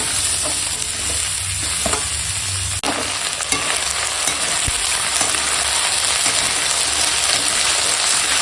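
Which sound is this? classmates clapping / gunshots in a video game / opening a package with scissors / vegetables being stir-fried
vegetables being stir-fried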